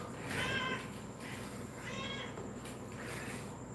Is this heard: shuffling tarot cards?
no